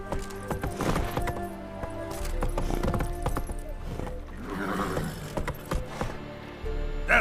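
Horse galloping in The Witcher 3 video game, steady hoofbeats clip-clopping close and loud, with game ambience and a short whinny-like sound mixed in, and brief voice moments.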